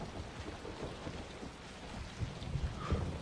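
Steady rain falls on surfaces with soft patter and scattered low thumps, quiet and continuous, with no talking.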